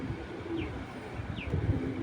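A large racing pigeon coos softly in a loft, low murmuring calls repeating over roughly two seconds, with faint higher chirps from other birds nearby and no talking.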